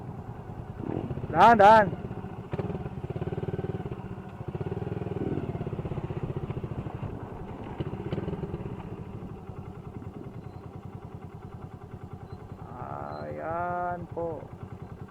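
A motorcycle engine idles with a low, steady putter throughout, joined by a brief loud rev and a spoken voice near the start, and more talking near the end.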